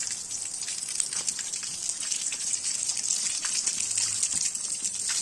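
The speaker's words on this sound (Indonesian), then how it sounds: "masih pancurannya itu dari bambu ya" Clear water pours steadily from a bamboo spout in a continuous bright splashing hiss, moderately close and unbroken, with no talk.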